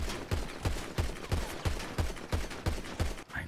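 Rapid gunfire in the video game GTA, a regular burst of about ten sharp shots in quick rhythm, close and punchy, with no talk.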